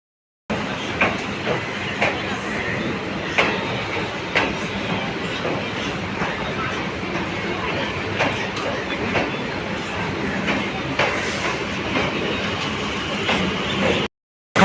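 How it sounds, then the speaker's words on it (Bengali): A train departing Sealdah station rolls along with loud, steady noise and a recurring clickety-clack of wheels, continuous throughout. "এইমাত্র ছেড়ে দিল আমাদের ট্রেন শিয়ালদা স্টেশন থেকে"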